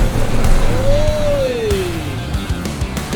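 A BYD Shark climbs a 49-degree hill with the pedal floored, its engine droning and rising then falling in pitch under strain. Rumbling and scrabbling noises run underneath.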